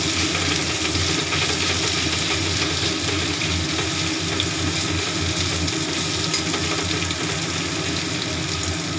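Pointed gourd peel paste hits a hot pan in a home kitchen, giving a loud, steady, continuous sizzle with no talking.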